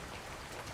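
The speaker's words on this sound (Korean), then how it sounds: "소나기" A heavy, sudden rain shower pours down as a dense, steady hiss of drops that fills the whole moment with no break and no speech.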